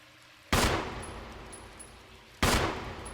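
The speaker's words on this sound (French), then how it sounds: "Attendez, si je tire dessus." Two loud, abrupt gunshot bursts from the Resident Evil video game, each a sharp blast with a short decaying tail, spaced about two seconds apart over a quiet game background.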